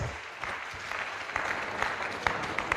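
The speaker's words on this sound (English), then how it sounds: "I think she deserves another round of applause." Steady, full applause from a conference audience at a pharmacists' continuing education event, sustained evenly throughout with a few sharper claps standing out near the end.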